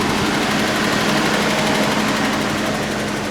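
A Nissan truck engine runs steadily after a fuel pump replacement, a close, even idle with a constant buzzing hum and no voices.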